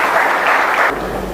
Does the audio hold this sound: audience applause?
yes